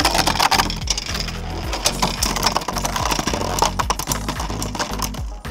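Two Beyblade Burst tops, Zwei Longinus and Heaven Pegasus, battle in a close, loud, rapid clatter of plastic and metal, repeated ratcheting clicks and grinding impacts running continuously, with no talk.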